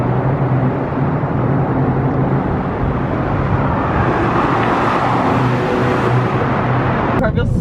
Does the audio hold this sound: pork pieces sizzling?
no